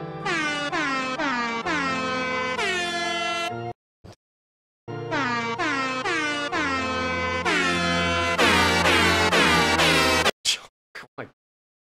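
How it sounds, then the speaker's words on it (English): Loud air horns blare repeatedly over a Kingdom Hearts scene in rapid, stuttering bursts, forming a rhythmic, almost musical pattern, with brief pauses between runs. "it's just the Kingdom Hearts scene, but with air horns the entire time"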